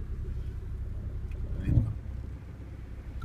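A car's engine rumbles low and steady as the car starts to move off during a first driving lesson, with a brief swell in the middle and no talking.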